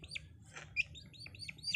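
A chick perched on a person's foot gives a string of high, thin chirps, close and fairly quiet, spaced irregularly over the short stretch.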